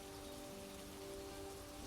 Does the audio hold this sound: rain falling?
yes